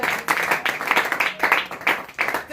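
A church congregation clapping together in rhythmic bursts of applause during a sermon, bright and fairly close, with some murmured voices mixed into the claps.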